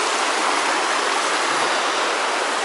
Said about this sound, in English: just to show this river, this stream.